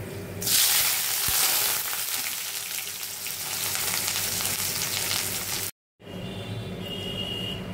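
Chopped onion tipped into hot oil with three cardamom pods, for a kosha meat dish, sets off a loud, dense sizzle that stays steady and close, cuts out completely for a moment, then resumes.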